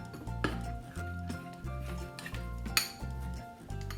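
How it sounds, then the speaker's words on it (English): A spoon scrapes and taps around the inside of a mug while stirring thick brownie batter, a close, repeated rhythmic clinking and scraping with brief louder knocks, no talking. "Take a spoon and mix all of the ingredients together to make the batter"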